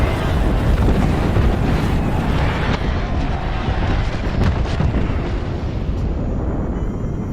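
Airstrike explosions in a video game, a sustained loud rumbling roar with crackling bursts running continuously throughout, like heavy bombardment close by.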